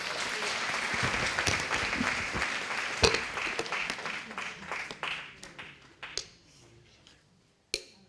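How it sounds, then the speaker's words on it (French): A gathered audience applauds after a testimony, a full round of clapping that thins into scattered individual claps, then a short silence before one last sharp clap. "On peut l'applaudir."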